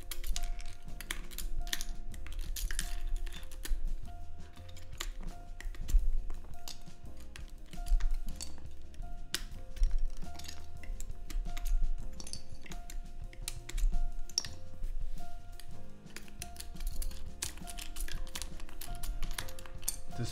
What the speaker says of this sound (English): While I remove these keycaps